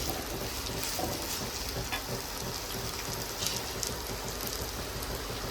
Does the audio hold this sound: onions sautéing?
yes